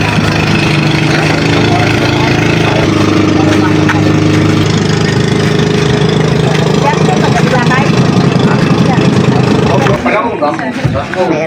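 A loud, steady boat motor drone runs throughout with a low rumbling hum, cutting off abruptly near the end, with faint voices underneath.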